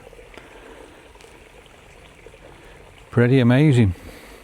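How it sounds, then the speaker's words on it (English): Rust-stained water flows through a stream on an autumn walk in Staffordshire, a faint steady trickle throughout, briefly covered by a man's short spoken remark. "It's very, very rusty water, and you can see it flowing through there."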